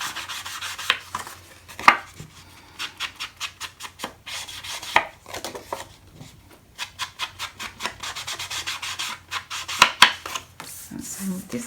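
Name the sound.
inking cut paper edges with an ink pad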